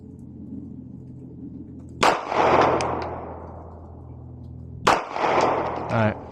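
Two sharp pistol shots ring out at a shooting range from a Sig P365 FUSE or Glock 45, about three seconds apart. Each loud crack leaves a rumbling echo that fades slowly.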